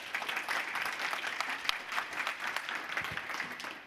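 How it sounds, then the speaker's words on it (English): Audience applause at a Data Science Festival conference talk, a steady broadband patter of many hands clapping throughout, fairly close and even, fading slightly toward the end. "Round of applause for Clemence,"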